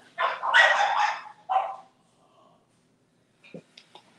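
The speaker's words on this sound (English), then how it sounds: "These damn dogs are crazy." A dog gives a couple of close, loud barks, a longer one then a shorter one, followed by silence and a few faint yips near the end.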